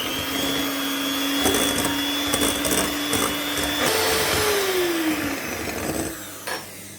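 An electric mixer beats eggs with 150 g of sugar for a cream cake: a loud, steady motor whine close up. Its pitch drops partway through, then the whine eases off toward the end.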